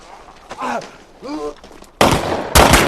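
Several sharp gunshots as deserters are shot dead, two loud close bursts following short spoken narration.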